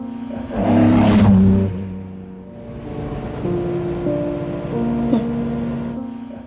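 A yellow Ferrari F355 GTS engine on the Wangan highway at night roars in a loud surge early on, then eases to a lower steady drone with smaller rises of revving, close and prominent.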